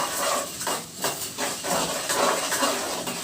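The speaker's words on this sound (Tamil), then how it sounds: "இப்போ கடலைப்பருப்பையும் உளுந்தையும் நம்ம கொட்டிடலாம். லைட்டாக வறுத்து எடுத்துடலாம்." Chana dal and urad dal sizzle in hot oil as they roast, a close, steady hiss that swells and eases in soft waves throughout.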